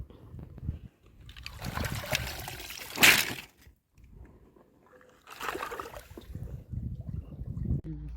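Clam shells washed by hand in a basin of water, making close splashing and trickling in two distinct bursts separated by quieter sloshing.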